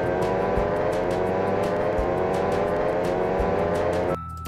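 An Italian car from a video game mod drives slowly, producing a steady engine hum with rhythmic thumps that holds at an even level before cutting off abruptly near the end, with no talking.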